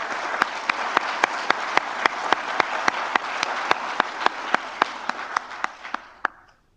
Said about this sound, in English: we would like to give them a round of applause and thank them for their service as well